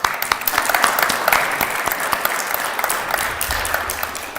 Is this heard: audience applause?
yes